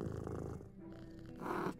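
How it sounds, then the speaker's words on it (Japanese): A cat purring in the video game A Little to the Left: a close, steady rumbling purr with a soft pulsing rhythm that swells louder near the end, with no talking over it. "え、猫ちゃんだ。"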